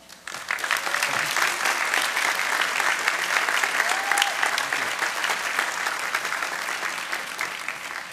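Steady, dense applause from a large crowd welcomes Ben Bernanke at a Harvard Class Day commencement event, filling the whole span after a brief quiet start and holding loud without a break.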